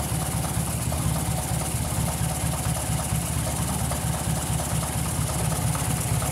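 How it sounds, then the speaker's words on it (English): A 1953 Ford Golden Jubilee tractor engine idles close by, a steady, even low rumble with a faint regular knock running throughout, with no talking over it. "I love how good this tractor idles."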